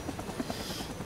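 Military helicopter in the Vietnam War shooter Rising Storm 2: Vietnam, its rotor chopping in a steady, dense rhythm, loud and close with no talk.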